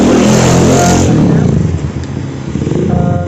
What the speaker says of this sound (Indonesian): ini banyak motor-motor yang lewat